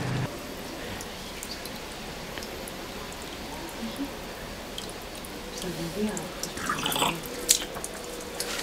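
Water splashes and trickles steadily from a spring fountain spout outdoors on Lesbos, with a broad constant wash of flow and occasional voices and small clatters in the background.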